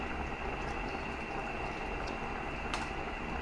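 Ginataang papaya with meat simmering in a pot: a steady bubbling boil throughout, with a faint stirring clink near the end, no talk.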